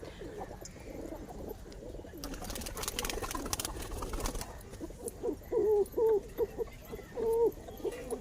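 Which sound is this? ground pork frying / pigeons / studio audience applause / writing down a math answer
pigeons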